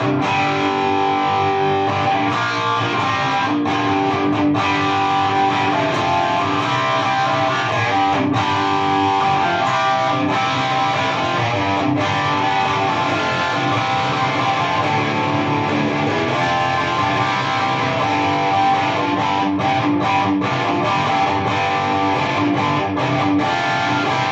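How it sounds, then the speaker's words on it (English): An electric guitar played through the crunch channel of a Bugera 333XL Infinium 120-watt three-channel amp, controls at noon with no reverb or effects, giving a continuous loud, distorted tone that rings on steadily without a break. "So I shall let you hear the crunch channel."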